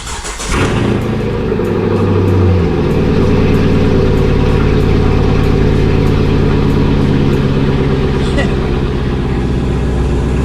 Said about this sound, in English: I haven't started the car in a few days, so this will be nice.